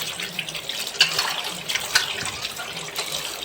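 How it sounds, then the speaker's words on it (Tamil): Tap water runs steadily while fish is rinsed by hand in a kitchen sink, with soft splashes and a couple of louder sloshes close by. "நல்லா ஒரு ரெண்டு தடவை தண்ணி விட்டு கழுவுங்க"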